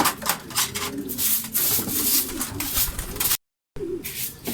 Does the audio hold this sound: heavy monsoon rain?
no